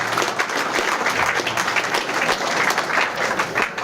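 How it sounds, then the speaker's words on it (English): Banquet audience applauding businesses in attendance at a company awards dinner, a steady, dense roll of many hands clapping that fills the room without break. "A round of applause for all the businesses that are here"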